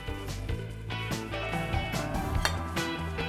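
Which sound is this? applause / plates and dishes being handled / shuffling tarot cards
plates and dishes being handled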